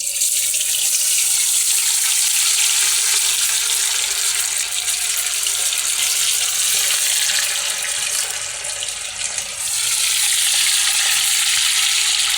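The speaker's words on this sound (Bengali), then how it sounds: "তেল গরম হয়ে গেছে কড়াইতে, এইবারে আমি চিকেনগুলোকে ছাড়বো।" Chicken pieces frying in hot oil in a wok for a garlic and tomato sauce dish, giving a loud, steady hiss that runs throughout and dips briefly near the end, with no talking.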